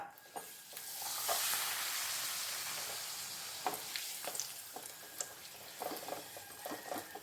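Papadam frying in hot oil in a home kitchen, a loud continuous hiss and sizzle with crackling pops that come and go, close by, with no talking.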